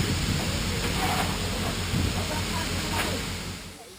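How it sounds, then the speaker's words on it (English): A UK-built 1953 steam train rolls through the African bush with a dense, steady rush of hiss and rumbling wheels, loud and close, easing slightly toward the end. "This is a real steam train."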